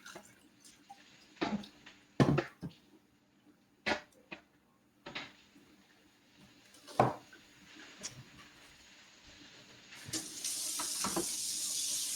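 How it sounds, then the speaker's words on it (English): A bowl is washed in a kitchen sink, with scattered knocks and clatters of the bowl against the basin, and a tap runs steadily in the last couple of seconds; no one speaks. "I have washed my bowl."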